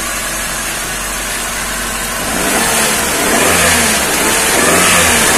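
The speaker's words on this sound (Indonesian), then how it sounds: "Jadi kita masih bisa mainin gasnya" A Toyota Soluna 1.5 GLi from 2000 with a cable-operated throttle, its engine idling and then revved in repeated swells, loud and close, with a throaty mid-pitched roar rising and falling.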